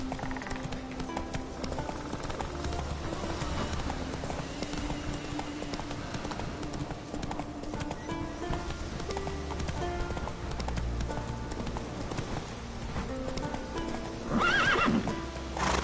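Roach the horse gallops in The Witcher 3 on Skellige, a steady run of clip-clop hoofbeats throughout, with a loud whinny near the end over a continuous game music bed.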